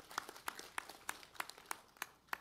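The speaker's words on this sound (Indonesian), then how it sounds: "kita tepuk tangan untuk Kepala BNN." A small group gives sparse, scattered claps at a press conference on a two-ton methamphetamine smuggling bust, with individual hand claps spaced apart and fairly faint in a quiet room.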